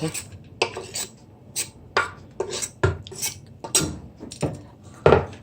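Chopped vegetables for Jamaican turn cornmeal go into a pot in a series of sharp clattering knocks and rustles, irregular and close, with quiet gaps between the drops.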